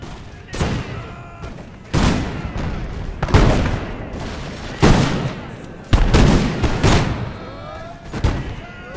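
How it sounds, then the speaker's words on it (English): Line infantry musket volleys in the Imperial Splendour mod battle game: about seven sharp, heavy crackling bursts of gunfire fired in quick succession, each ringing out with echoing tails, like a near-continuous rolling volley. "by the time they fire down here, these guys are already reloaded, so it's like a continuous shot towards the enemy here"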